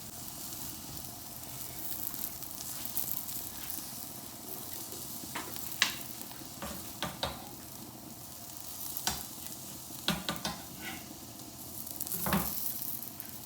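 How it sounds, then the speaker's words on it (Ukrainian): Steady sizzling of eggplant cutlets frying in a pan, with occasional clicks and taps of a utensil against the pan. "Друга сковорідка, тут будуть готуватися котлети."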